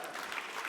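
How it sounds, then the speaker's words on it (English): Audience clapping at an awards dinner, a steady wash of applause from a seated crowd filling the whole short moment with no voices on top. "you can clap"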